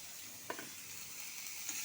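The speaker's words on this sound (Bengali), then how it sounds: "এখন মশলাটা ভালো করে কষিয়ে নিচ্ছি" Tomato stirred into fried masala of onion, ginger, green chilli and cumin paste in a pan, a quiet steady sizzle with a couple of soft spatula scrapes.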